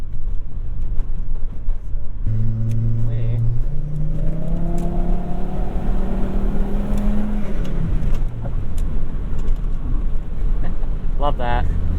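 A turbocharged Volvo 850R with a swapped-in C70 T5 engine accelerates hard under boost. Loud engine harmonics climb steadily in pitch, then drop away, with voices heard in the cabin.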